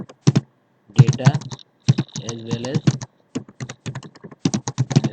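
Keys clatter on a computer keyboard as SQL statements are typed, a close, irregular run of crisp taps in quick bursts with short pauses, while someone talks over part of it.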